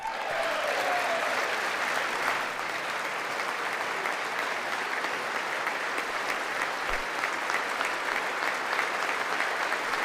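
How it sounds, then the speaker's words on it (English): Sustained, loud applause from the audience at a State of the Union address, a dense wall of clapping that carries on steadily without pause and with no voices over it. "It's just too much clapping."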